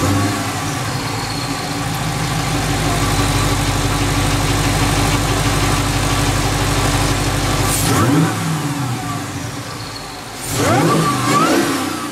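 A car engine with a Magnuson supercharger, upgraded 90mm throttle body and blower snout runs at a steady, rumbling idle for several seconds, then revs briefly twice, loud and close.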